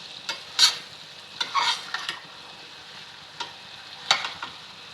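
Black chickpeas roasting in a pan for a spicy chole, stirred with repeated scraping strokes over a steady low sizzle, close and clear with no talking.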